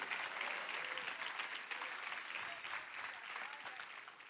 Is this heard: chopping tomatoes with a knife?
no